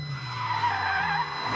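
A car skids with tires squealing loudly, one continuous high screech held for under two seconds, close and alone.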